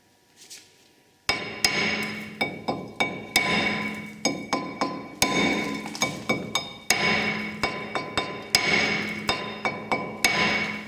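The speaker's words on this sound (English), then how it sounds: "it's going to give this a few taps just to break the seal between the back of the disc and the hub" A hammer strikes a rusted brake disc on a car hub in a string of sharp metallic taps, in irregular bursts of quick blows with brief pauses, loud and close with ringing clinks and no speech.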